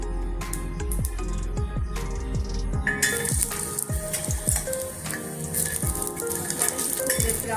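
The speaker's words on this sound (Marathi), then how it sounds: "आपण ह्या लोखंडी तव्यावर आपले मसाले भाजून घेणार आहोत." Spices and coconut dry-roast on an iron griddle, giving a busy crackling sizzle with rapid popping ticks, close and steady throughout.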